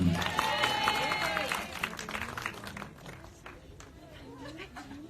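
An audience applauds at a film press conference and gala premiere, with dense clapping that starts loud and tapers off over several seconds while voices talk over it.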